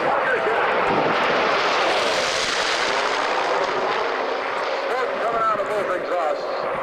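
Warbird airplane with twin 2,100-horsepower Pratt & Whitney R2800 radial engines flying overhead at an airshow, a loud, steady roaring drone filling the whole stretch with a slight swell and fade.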